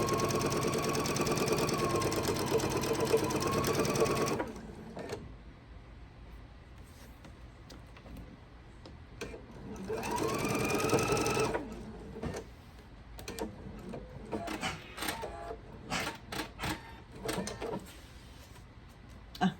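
A sewing machine stitches quilt fabric in two loud bursts of rapid mechanical whirring, each about four seconds long, separated by quieter clicks and handling noises.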